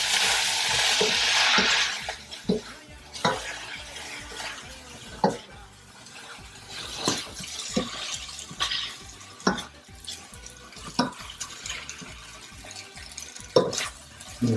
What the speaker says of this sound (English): I'm gonna put to the shrimp. Mix them up.